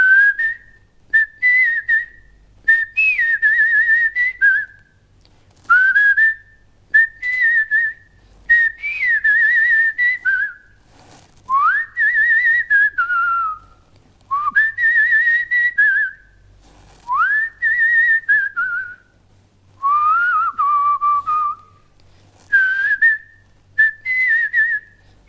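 A person whistles a favourite Tamil song melody on a television programme, producing clear, loud, bright tuneful phrases with short pauses between them for about twenty-five seconds, with no talking over it.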